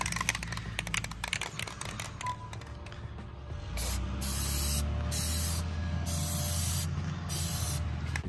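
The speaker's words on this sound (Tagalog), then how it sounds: "Spray natin ito." Plasti Dip sprays from an aerosol can onto a Honda Pilot Trailsport outdoors: a steady close hiss with clicking texture that grows fuller and louder through the second half, with no talk.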